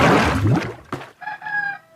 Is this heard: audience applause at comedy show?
no